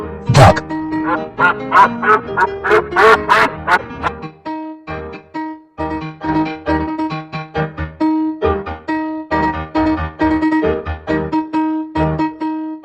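Cartoon duck quacks over a lively, plinky music track, with a cluster of loud quacks early on, then rhythmic tuneful notes continuing steadily to the end.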